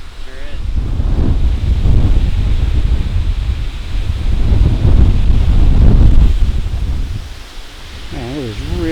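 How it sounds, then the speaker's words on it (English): Strong gusty wind on a mountain top at Stoppel Point in the Catskills, New York, roars across the microphone in heavy rushing waves, swelling and easing, with no clear talking heard through it. "Man, it is really windy up here."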